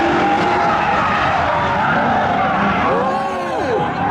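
A Mustang drifting, its spinning tires squealing continuously over a loud engine, with a rising and falling pitched squeal near the end and a voice talking over it throughout.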